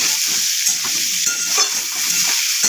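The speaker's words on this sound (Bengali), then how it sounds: "এই যে আমি আলুটা বেগুনটা ভেজে নিচ্ছি।" Potato and eggplant frying in a pan for an egg, potato and eggplant curry, a steady close sizzle with light stirring scrapes, no voices.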